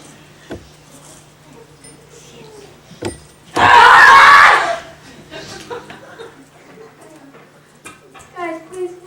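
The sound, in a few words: children yelling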